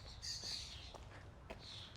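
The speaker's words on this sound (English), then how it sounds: "A lot of birds." Several birds squawk and chirp outdoors in short, scattered calls at moderate distance, with a steady low background rumble and no talking.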